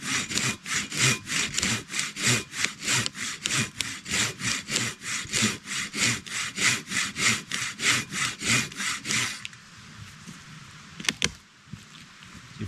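Steady back-and-forth strokes of a hand saw cutting through wood, rhythmic and close, about thirty strokes before stopping, followed by a few faint knocks.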